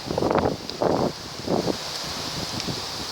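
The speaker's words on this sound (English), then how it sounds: "listen to the wind" Wind gusts through silver birch trees in swelling, rustling surges, three strong rushes followed by a softer steady breeze, with no talking.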